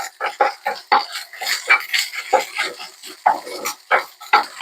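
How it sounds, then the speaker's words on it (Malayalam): A spoon or whisk beats egg with pepper powder and garam masala in a bowl, giving quick, irregular clinks and scrapes at close range, with no speech over the mixing. "കുറച്ച് കുരുമുളക് പൊടി, കുറച്ച് ഗരം മസാല, നല്ലപോലെ ഒന്ന് മിക്സായി കൊടുക്കുക."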